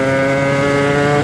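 A Sherco dirt motorcycle, nearly stock with only an aftermarket exhaust, revs hard as its rear wheel spins on loose ground, a loud, steady, buzzing engine drone with no pause.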